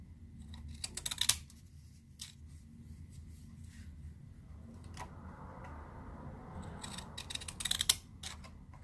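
Scissors snipping out the back piece of a handmade autumn tea bag holder: a few sharp, close cuts near the start and end, separated by quieter handling noise.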